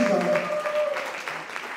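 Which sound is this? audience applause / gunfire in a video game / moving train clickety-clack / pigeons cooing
audience applause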